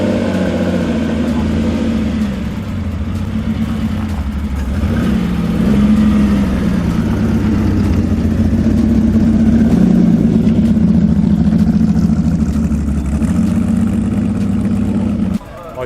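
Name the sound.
Ferrari sports car engine starting and idling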